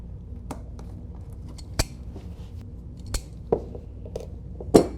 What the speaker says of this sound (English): the first step is to take the master link off